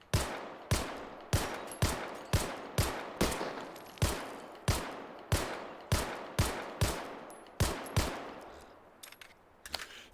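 Gunfire in the video game Hot Dogs, Horseshoes & Hand Grenades: about eighteen sharp, loud single shots fired at a steady, evenly spaced pace, each with a brief decaying echo.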